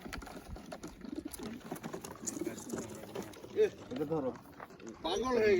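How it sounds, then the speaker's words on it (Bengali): Thirty or so pigeons bustle and coo in a crate before release, with soft repeated coos and flapping scuffles running throughout at close range, while voices talk over them. "কবুতর রিলিজ হওয়ার জন্য ছোটাছুটি করতেছে"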